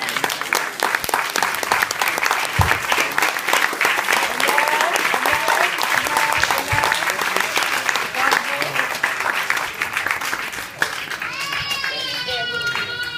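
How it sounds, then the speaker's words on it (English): Church congregation clapping for the word: sustained loud applause from a crowd, dense and steady, with voices calling out underneath and a brief vocal cry near the end. "Let's give God a name clap for His word."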